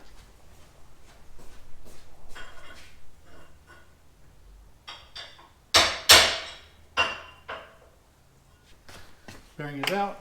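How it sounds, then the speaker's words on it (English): Sharp metallic hammer blows knock a bearing out of a sand rail part, a handful of loud, irregular strikes clustered near the middle, with softer taps and talking around them. "Go pop this bearing out."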